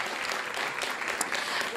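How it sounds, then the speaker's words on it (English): Brief burst of audience clapping for the winner of an astronomy cake-off, a close, busy patter of hands over a couple of seconds. "Applauding."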